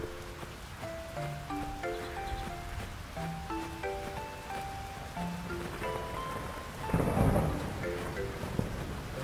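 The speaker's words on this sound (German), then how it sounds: "Gewitter ist cool." A rain-soaked thunderstorm in the farming game Fields of Mistria: steady hissing rainfall under a soft game melody, with a rumbling thunder roll swelling near the end, no voices.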